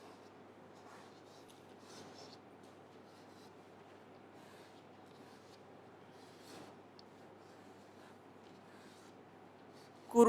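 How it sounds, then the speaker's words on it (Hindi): A mantra being written by hand, with faint, steady scratching and rubbing of pen on paper for several seconds in a quiet room, ending in a sudden louder knock. "दूसरे मंत्र को मैं लिखता हूँ"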